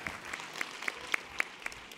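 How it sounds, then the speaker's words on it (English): An audience at a borough address claps: a sparse, thin round of applause with a handful of distinct sharp claps standing out, fairly faint and steady. "I didn't say anything and you clapped for me."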